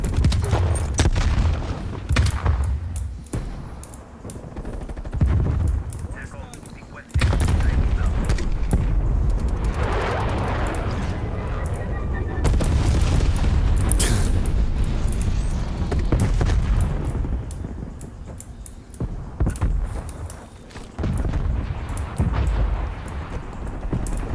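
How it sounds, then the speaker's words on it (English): A stun grenade detonates in a video game amid sustained gunfire, with heavy booms and rapid shots layered into a dense, loud, near battle din throughout. "Stun grenade out."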